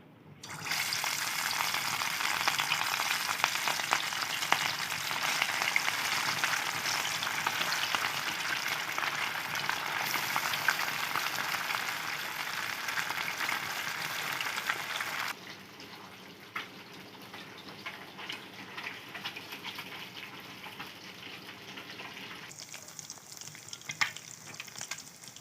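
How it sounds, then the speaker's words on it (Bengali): Turmeric-coated fish frying in white oil in a wok, a loud, dense sizzle that drops sharply partway through and continues as softer crackling, close and without speech. "এবার মাছগুলোকে ভেজে নেব।"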